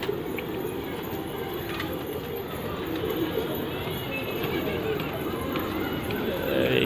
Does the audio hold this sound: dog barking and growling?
no